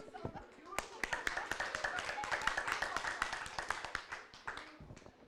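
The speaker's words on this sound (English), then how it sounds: "I think a round of applause" Audience applause at a leadership session of a forum, distinct sharp claps from many hands rising into a dense, fairly close round that carries on for several seconds before tapering, with some voices mixed in.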